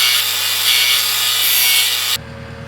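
A part on a new milking robot is ground where it rubs, giving a loud, continuous harsh abrasive rasp that runs steadily for about two seconds, then cuts off abruptly to a low mechanical hum.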